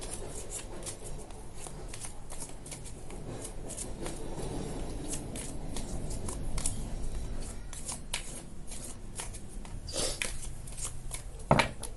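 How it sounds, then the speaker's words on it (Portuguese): Tarot cards are shuffled and drawn by hand, with soft, close riffling and repeated papery slaps and flicks. The faint sounds run continuously for the whole stretch, with sharper snaps near the end. "Agora eu vou tirar 3 cartas para o desfecho."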